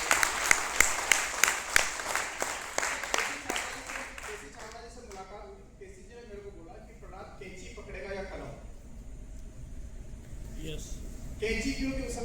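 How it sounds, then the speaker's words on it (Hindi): A live audience at a motivational talk breaks into loud, rhythmic applause for the first few seconds, then the clapping fades into a softer crowd murmur and scattered hand claps with faint talk underneath. "एक बार जोरदार ताली बजाइए।"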